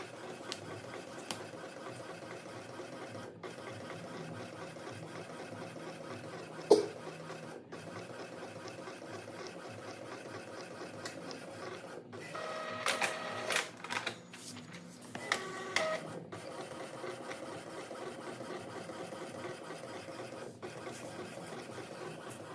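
An Epson L3250 ink tank printer runs through a three-page job: quiet mechanical whirring is broken by a few sharp clicks and a louder burst of paper-feed and print-head clatter midway.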